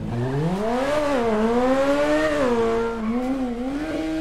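A tuned car engine in GTA 5 revs up and down in smooth, rising and falling sweeps, loud and close, with no one speaking.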